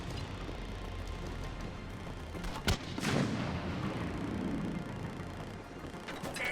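A grenade goes off in Mass Effect 3 combat, one sharp crack followed by a deep rolling boom that fades slowly over steady background noise.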